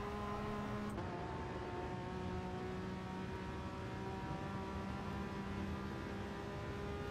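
A Peugeot VGT race car in Gran Turismo Sport on the Dragon Trail Seaside track holds full throttle through the S-bends, giving a steady sustained engine whine at even loudness with no talking.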